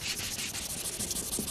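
Steady, continuous hand sanding of a car bumper with 600 or 400 grit sandpaper, a dense abrasive rasp that rises and falls in quick back-and-forth strokes, close and constant with no voices.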